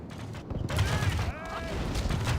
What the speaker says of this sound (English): go see how my guys are doing under this cannon fire